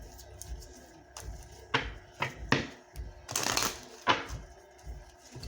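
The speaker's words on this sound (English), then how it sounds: "Just want to make sure I shuffle these cards correctly" Tarot cards shuffled by hand at close range, with several soft papery riffles and slaps in an irregular rhythm over a quiet room, no talking.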